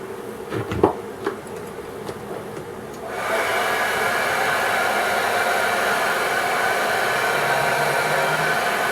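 Hot air from a heat gun playing over a Kydex cheek riser for a target rifle: a few light taps and clicks, then a steady loud blowing hiss that starts abruptly and holds to the end.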